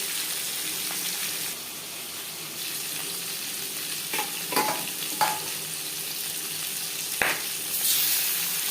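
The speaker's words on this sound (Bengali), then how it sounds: "একবারে এই মাছ ভেজে নেব যেহেতু আমার কড়াইটা বড়" Seven pieces of fish fry together in a large wok with a steady close sizzle, broken by a few faint clinks of stirring.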